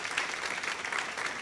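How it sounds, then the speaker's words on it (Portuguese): Audience in a Brazilian law conference auditorium applauding steadily after a lecture, a dense wash of many hands clapping at an even level throughout, with no voices on top. "uma salva de palmas"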